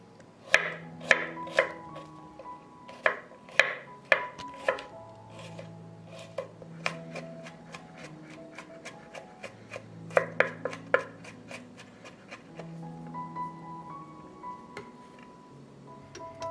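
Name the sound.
knife chopping garlic cloves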